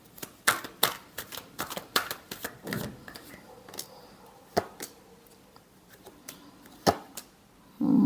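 Tarot cards are shuffled by hand in a quick burst of crisp, close riffling slaps and flicks, then slower scattered taps and snaps across a quiet room.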